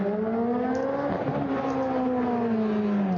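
Peugeot 205 T16 rally car driven hard on a night run at Goodwood SpeedWeek, a loud sustained engine howl that holds high revs and shifts pitch slightly, with no voices.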